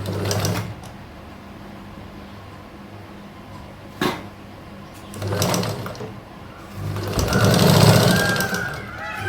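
A sewing machine stitches fabric along the marked line of a deep front and back neck, with bursts of mechanical running between pauses, fairly close and moderately loud.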